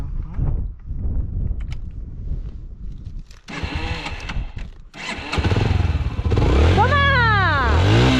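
A motorcycle on a road near Mendoza idles roughly, then its engine climbs steeply in pitch as it accelerates hard, loud and close, with voices in the background.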